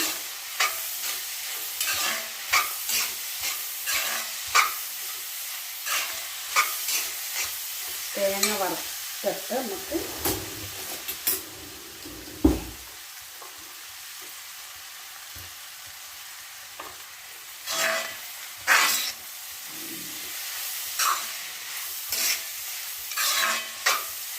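Grated coconut roasting in a pan on a stove for a beef curry, with steady close scraping and stirring strokes against the pan over a soft sizzle and a few sharper clatters midway.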